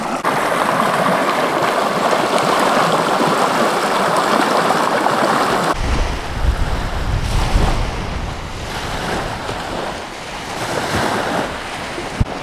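Witch Creek, a warm stream near Yellowstone National Park, flows with a steady broadband rush that cuts abruptly around six seconds into a lower, rougher wash with wind buffeting the microphone.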